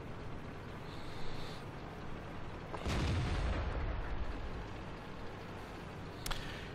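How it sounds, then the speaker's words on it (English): Artillery fire in World of Tanks: one heavy, rumbling boom lands mid-way, then a sharper distant crack follows later, both fairly faint over quiet battlefield ambience. "And the artillery is coming to the rescue."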